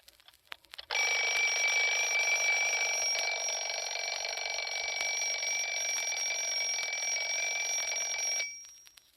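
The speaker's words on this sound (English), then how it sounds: "And then there are alarm clocks." An alarm clock rings loudly and continuously for about eight seconds, then stops abruptly, close and alone.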